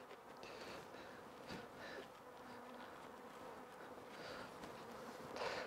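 A dense, steady buzz of many honeybees at a queenless hive fills the air close by, a soft continuous hum with no voices.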